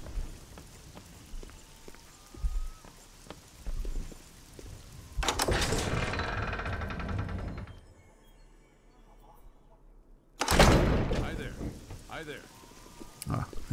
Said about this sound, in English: Ah, raining again.